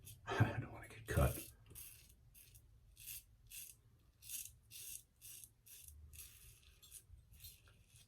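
A 1959 Gillette Red Tip safety razor rasps across lathered stubble around the lip in short, close scraping strokes, a few louder passes at first and then lighter rhythmic ones, with quiet breathing between.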